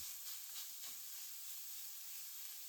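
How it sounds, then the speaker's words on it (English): Ground meat sizzling in an oiled frying pan over medium-low heat while cooking Japanese potato croquettes, a steady soft hiss and crackle, fairly faint and continuous throughout. "I add the ground meat to the pan and spread the meat evenly."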